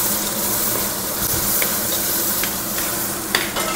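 Thick pineapple pulp pours into a hot pan aboard a ship's galley and is stirred, giving a steady loud sizzle with scattered scraping clicks of the utensil and no talking.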